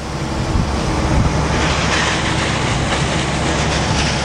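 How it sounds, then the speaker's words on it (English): Fire hose stream from a nozzle, a loud steady broadband rush of water spraying continuously throughout, with no voices. "The back firefighter will lift the hose up, allowing the front firefighter to position the hose stream down."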